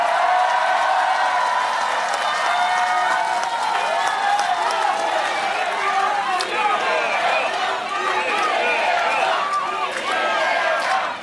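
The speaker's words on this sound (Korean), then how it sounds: "박수 좀 크게 써주세요" A large crowd at a Korean political campaign rally claps loudly and continuously, applause filling the space with scattered cheers and chatter mixed in.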